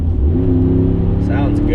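Mercedes G550 with a non-AMG V8 engine, a loud, close, steady engine drone with a rising rev tone, under someone talking.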